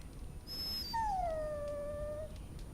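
A dog in the video game Dragon Age: Origins lets out a high, drawn-out whimper that slides downward into a long, plaintive whine, heard clearly over a low background hum.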